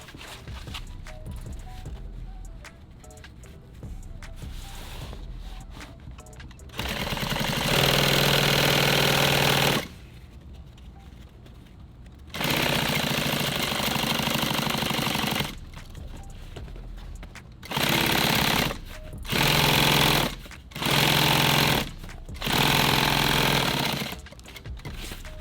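Sewing machine stitching nylon tactical gear, running in several loud bursts of rapid stitching separated by quieter pauses, close and without talk.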